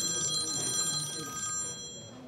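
A telephone rings steadily with a bright, sustained electronic trill that fades slightly near the end, heard alone without talk as a journalist calls a doctor.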